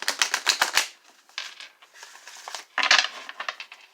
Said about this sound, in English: I have done quite a bit of shuffling, but I'm going to do a couple more times.